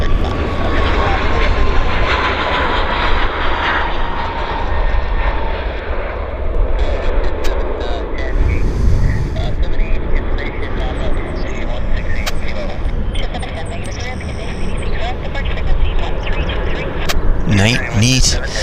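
An airplane departs a runway at Vancouver Airport, its engine roar loud and sustained throughout while people talk over it.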